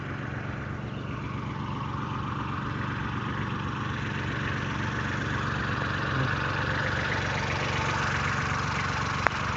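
A tractor idles on a grape farm during new plot preparation, a steady low engine drone running evenly throughout with no talk.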